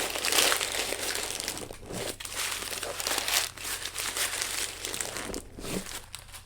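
Big sheets of packing paper crumple and crinkle inside a shipping box while a Crunchyroll anime collection is unboxed, a continuous close rustle with sharper crunchy bursts and no talking.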